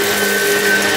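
A Shark vacuum cleaner runs on carpet with a steady, loud motor whine and broadband suction roar, continuous and close throughout the short stretch with no talk.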